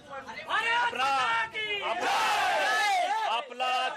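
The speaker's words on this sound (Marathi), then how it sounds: "कोल्हापुरामध्ये स्वप्नीलच्या गावी या विजयानंतर जल्लोष करण्यात आला" Villagers in Kolhapur celebrating shooter Swapnil Kusale's Olympic medal: a loud crowd of voices cheering, chanting and shouting together, dense and close, with rising whoops and brief dips between bursts.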